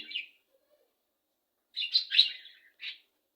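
Pet budgerigars, part of a flock of five breeding pairs that includes lutino-coloured birds, give one short chirp, then a burst of several close, bright chirps after a quiet pause, with no talking.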